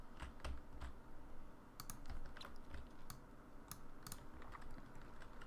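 Keys clatter on a computer keyboard in quick irregular bursts of close, soft clicks, with short pauses between runs of typing and no talking.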